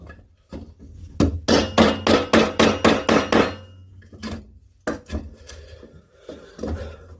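A mallet strikes a chisel into soft, delicate wood while carving a small wooden Christmas tree. About eight sharp, evenly spaced knocks come in a quick run, then several scattered taps and scraping follows, all close and loud.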